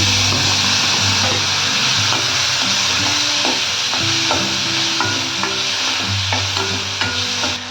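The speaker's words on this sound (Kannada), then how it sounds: "ಇದಕ್ಕೆ ಈಗ ಹೆಚ್ಚಿಟ್ಕೊಂಡಿರೋ ದ್ರಾಕ್ಷಿನ ಹಾಕ್ತಾ ಇದ್ದೀನಿ" Chopped grapes dropped into a hot tempering with curry leaves sizzle loudly and steadily, with stirring scrapes of a spoon in the pan throughout.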